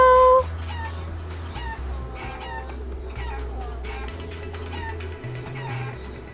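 Video game chickens from Guacamelee cluck and squawk in short, bright chirps scattered through the scene over a low game hum, close and fairly loud.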